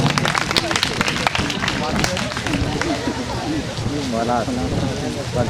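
Audience applause at a school quiz competition in Chhindwara, a dense patter of many hands clapping at once, continuous and fairly loud, with voices calling out over it.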